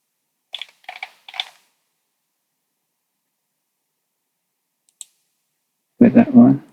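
Several quick mouse clicks while assembling a hoist in CAD software, a few sharp close taps in short bursts with a long gap, then a person begins talking.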